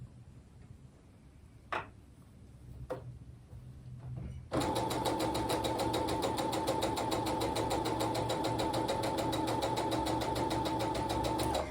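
After a few faint clicks, a sewing machine starts up and runs steadily, stitching quilt fabric with a fast, even mechanical whir that stays loud and close until the end.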